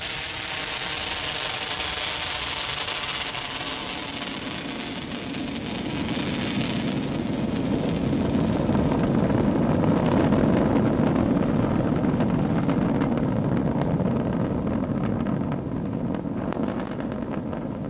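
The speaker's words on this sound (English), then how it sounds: "successful liftoff of the Falcon 9 from Launch Complex 39A" A SpaceX Falcon 9 rocket lifts off from Launch Complex 39A at Kennedy on the IXPE mission, its Merlin 1D engines producing a continuous broadband roar and crackle that grows heavier over about eighteen seconds, distant yet powerful.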